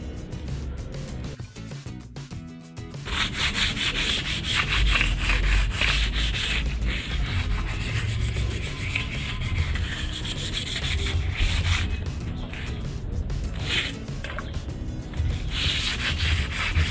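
Steady abrasive sanding on a motorcycle exhaust pipe, a continuous rasping scrub that starts after a short pause and keeps going with slight variations in intensity.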